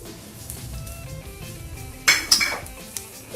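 Samosa filling spices, garlic, onion and ginger pastes, mixed in a bowl: a few sharp clinks of a spoon against the dish near the middle, over a soft background scraping rhythm.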